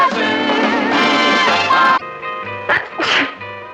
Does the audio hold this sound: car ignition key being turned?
no